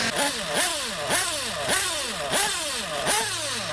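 A small high-pitched nitro engine in an RC car, warmed up, revs repeatedly in quick bursts, rising and falling about six times in steady rhythm, loud and close.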